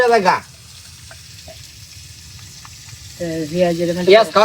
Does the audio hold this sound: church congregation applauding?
no